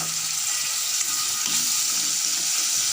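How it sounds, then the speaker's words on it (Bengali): A mixed spice paste hits a hot pan for chicken kofta curry, giving a steady, loud, hissing sizzle close up that holds without a break and has no voices over it. "এখন আমি মিশিয়ে রাখা মশলাটাকে দিয়ে দিলাম।"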